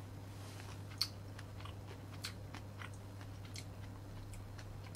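Someone chews a Luxardo maraschino cherry close up, with soft wet bites and small crunchy clicks over a steady low electrical hum and no talking.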